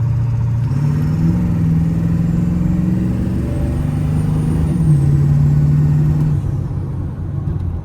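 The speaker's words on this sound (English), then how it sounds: "you can definitely hear the turbo way more" A diesel truck fitted with an inexpensive cold air intake drives along while its turbo spools, a loud steady engine drone with a rising and falling whine over it.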